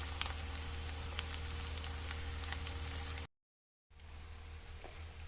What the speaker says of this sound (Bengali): আমি পেঁয়াজটা একটু লাল করে ভেজে নেব।